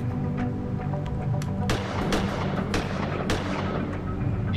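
A weapon fires at a target in the video game Gemini Rue. Several sharp, booming shots ring out at irregular intervals over a steady low background hum.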